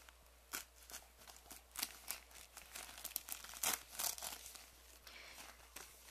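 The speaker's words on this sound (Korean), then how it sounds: "이제 양쪽을 뜯어볼게요." Crinkly waterproof plastic foot-pack packaging being torn open and handled, a series of sharp rustling rips and crackles close up, with brief pauses between them.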